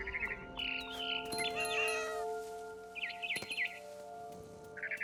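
Cat meowing in the video game What Remains of Edith Finch, giving several drawn-out wavering meows and yowls close by, with bird chirps and tweets between them over a steady tonal musical backdrop, and no voices.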